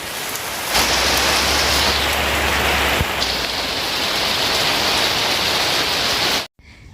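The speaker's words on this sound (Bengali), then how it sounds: "এদিকে আবার চলে এসেছে বৃষ্টি" Heavy rain pours steadily, a dense broadband hiss of drops on surfaces that stays loud and even before cutting off abruptly.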